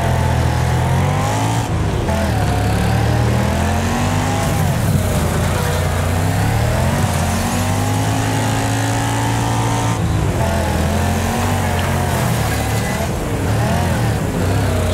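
Car engine held at full throttle in a Wreckfest demolition race, a loud continuous roar with rising and falling revs as gears shift, plus occasional crunches of impacts, with a voice talking over it.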